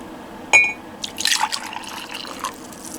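Liquid is poured quickly into a glass container, with a sharp clink at the start followed by a couple of seconds of splashing, gurgling fill that tapers off.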